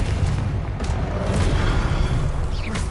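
Confringo explosive spell blast in Hogwarts Legacy, a dense rumbling burst of booms and crackling impacts that holds loud and steady for a few seconds, with a brief whooshing streak near the end.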